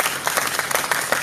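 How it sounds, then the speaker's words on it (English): A large crowd at a political gathering claps in loud, dense bursts, giving a brief, continuous patter of clapping. "More of that clap."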